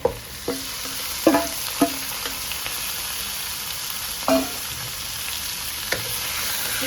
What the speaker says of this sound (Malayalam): നമ്മുടെ മാരിനേറ്റ് ചെയ്ത് വെച്ച ചിക്കൻ നമുക്ക് അതിലേക്ക് ഇട്ട് കൊടുക്കാം